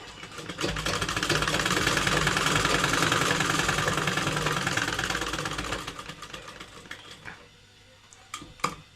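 A sewing machine stitches a hidden pocket into a salwar with a rapid, even mechanical chatter for about six seconds before it stops. A few faint clicks and handling sounds follow.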